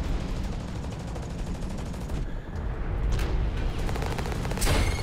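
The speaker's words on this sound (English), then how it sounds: "I'm getting shot to death here" Heavy mech gunfire from the Hawken video game pours out in dense rapid bursts, a continuous loud rattling barrage with sharper cracks near the end.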